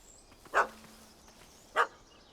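Dog barking in The Witcher 3 video game, two sharp separate barks about a second apart, fairly close and loud over a quiet ambient background.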